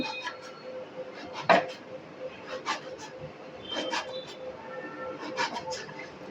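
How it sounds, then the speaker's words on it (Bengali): A knife finely chops taro on a board in sparse, irregular taps, one sharper knock standing out among softer cuts, all fairly quiet and close. "কচুটাকে আমি কুচি কুচি করে কেটে নেব দেখুন এই যে ছোট ছোট করে কেটে নিচ্ছি"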